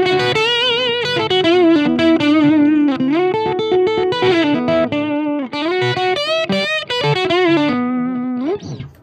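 Boss Blues Driver BD-2W overdrive pedal switched to Waza Craft mode, with level, tone and gain centered, shaping an electric guitar lead of sustained, bent notes and fast phrases with warm, gritty distortion, loud and near.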